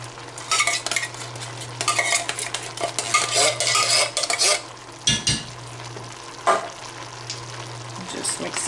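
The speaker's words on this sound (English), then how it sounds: "Just mix all that up." A spoon stirs diced tomatoes with green chilies and tomato sauce into keto chili in a pot, with scraping, clinking strokes against the pan over a steady sizzle, close and fairly loud, no talking.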